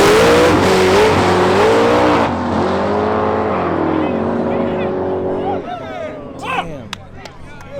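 Street race cars launch and accelerate hard at a legal street race, engines roaring loudly and steadily before easing off, with voices talking over the noise near the end.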